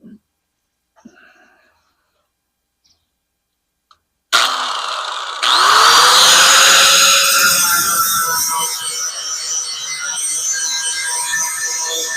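A power tool cleans a metal part in preparation for welding. After a quiet stretch with a few small clicks, it starts loud and close and runs as a steady, harsh whine for about eight seconds.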